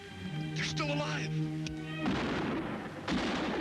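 Two sharp gunshots from a 1958 film burst out near the end, following a stretch of tonal score and voices.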